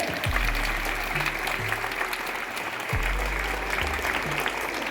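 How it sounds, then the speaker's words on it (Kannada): Loud sustained applause from students honouring parents at a parent-teacher meeting of a government girls' pre-university college in Channapatna, steady clapping throughout with a low hum underneath. "ಎಲ್ಲ ಮಕ್ಕಳು ಅವರಿಗೆ ಗೌರವಾರ್ಥವಾಗಿ ಜೋರಾಗಿ ಚಪ್ಪಾಳೆ"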